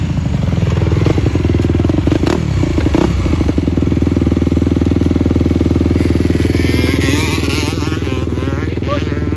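Several racing motorcycles roll into the pits during a race, engines loud and close, revving and clattering continuously with some scraping and crackle, under occasional talk.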